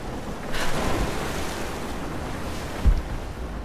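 Water rushing and churning as it rises in an ancient cistern tomb in Rise of the Tomb Raider, a steady wash of noise swelling early, then a brief low thump near the end, with no voices.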